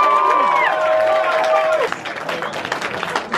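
Audience at a music event cheers and applauds, loud and continuous, with a musical tone and voices over the crowd noise early on, then dense clapping and shouts.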